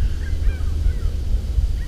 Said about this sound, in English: The birds are hanging around just here in the trees.